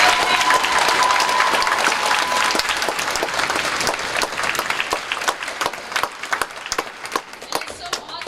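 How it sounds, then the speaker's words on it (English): A convention crowd applauds cosplay contestants at Tsukino-Con 2018, a loud, full round of clapping with a few cheers that gradually thins into scattered individual claps. "So I just want to get one big round of applause for everyone."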